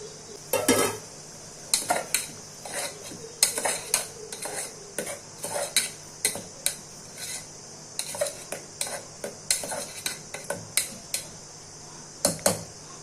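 Washed, chopped ridge gourd is added to a pan of tempering with tomatoes for gojju, giving a run of sharp metallic clinks and scraping utensil taps at an uneven rhythm, close by and moderately loud.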